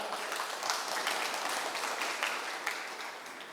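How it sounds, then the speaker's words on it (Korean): Steady, full applause from an audience at a forum event, continuous clapping with occasional sharper individual claps, sustained and fairly close throughout. "이분들에게 좀 큰 박수 좀 보내주십시오"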